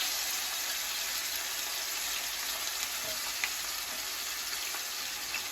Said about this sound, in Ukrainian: будемо жарити в декілька прийомів, щоб вона гарно просмажувалася, а не була вареною